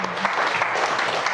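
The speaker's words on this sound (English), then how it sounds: "Can we get a round of applause?" Applause at a wedding ceremony: a short burst of clapping from the gathered guests, dense and steady, close by, with no speech over it.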